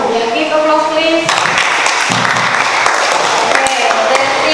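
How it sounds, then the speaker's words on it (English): Applause from a class of students, breaking out partway through as dense, loud clapping that fills the room, with a voice talking before and during it. "give applause please"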